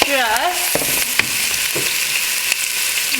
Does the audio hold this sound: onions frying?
yes